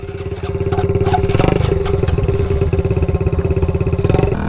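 A 1980s-original 125cc pit bike with supermoto tires fires up on the first kick and idles with a rapid, steady, close engine putter and some mechanical clatter, no talking.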